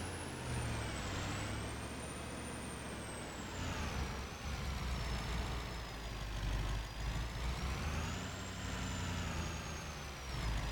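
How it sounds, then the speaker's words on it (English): A pickup truck engine drones steadily in a farming video game, a continuous mechanical hum with a high whine that slowly rises and falls over about eleven seconds, with no speech. "since the truck is here, we can just pull the header back with the pickup."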